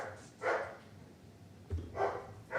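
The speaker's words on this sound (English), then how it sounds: "why is my dog barking, bro?" A dog barks in three short, moderately loud bursts separated by pauses, with no one talking.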